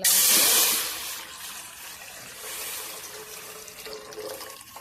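Water splashing loudly into an empty pot on a gas stove at first, then settling into a softer, steady trickle and gurgle nearby.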